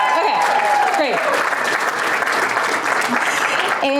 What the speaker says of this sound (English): But you can clap because what we do is amazing. Yeah, let's clap for that.